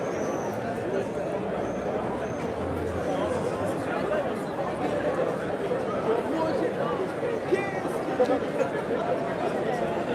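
Evening crowd of young people chatting on a busy street in Tours, a steady dense babble of many voices with no single speaker standing out, continuous throughout.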